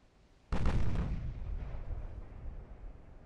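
A single heavy warship gun blast booms out in the naval battle game Ultimate Admiral: Dreadnoughts, sharp at onset and then rolling into a long, fading rumble, with no talking.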